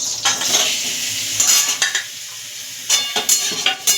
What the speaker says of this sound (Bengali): নুন, চিনি আর গোলমরিচ মাখানো পনিরটাকে ভেজে নেব হালকা লাল করে